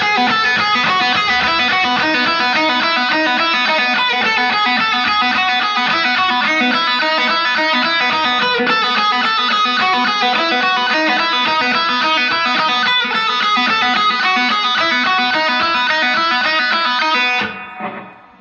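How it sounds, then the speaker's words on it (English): Electric guitar with overdrive plays a fast, continuous hammer-on and pull-off riff on the second string, a steady rolling stream of notes, loud and alone, stopping abruptly near the end. "I'm going to be doing lots and lots of hammer-ons and pull-offs on the 2nd string"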